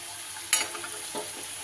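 Potatoes frying in oil give a soft, steady sizzle with one sharp stirring clack and a couple of fainter scrapes.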